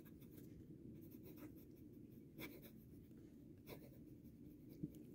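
A Sheaffer Balance II fountain pen with a medium nib writes a quick sample on paper: soft, close scratching strokes with a few sharper ticks, quiet and alone.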